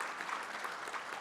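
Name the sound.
audience applause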